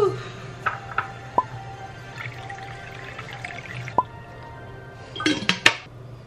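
A chunk of feta cheese is moved into its own salty brine water, giving quiet, sporadic drips and small splashes with a brief burst of wet clatter near the end.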